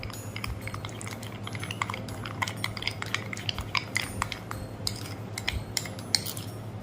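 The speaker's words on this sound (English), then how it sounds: "And now let's mix everything together." Glitter slime ingredients being mixed in a bowl, a utensil clinking and scraping in quick irregular strokes with wet squelching, close and steady over a low hum.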